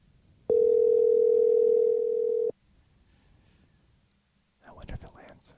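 A telephone call rings out on the line with a single steady tone for about two seconds, followed by quiet and then a brief burst of muffled noise near the end.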